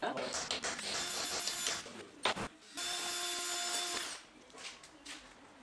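A power drill bores holes into a solar panel being fitted to a car roof, the whine running in steady bursts with short pauses, close and fairly quiet, while a person talks over it.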